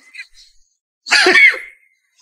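A single sharp sneeze from a streamer, one abrupt breathy burst in the middle of an otherwise quiet moment, with a short faint vocal sound just before it.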